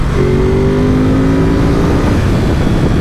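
A loud, close Ducati Supersport 950S twin-cylinder motorcycle engine roars as it revs high, its pitch holding steady then dropping away under heavy rumbling noise.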